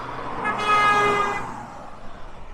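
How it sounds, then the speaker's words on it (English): A car horn sounds one sustained honk lasting about a second from passing road traffic beside an old roadside gas station in a run-down ghost town, then fades into traffic noise. "People honking at me while I'm shooting video."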